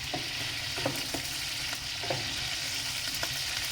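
Green and red peppers fry on top of a wood-burning stove, a steady close hiss of sizzling oil with scattered small pops and crackles throughout, no voices.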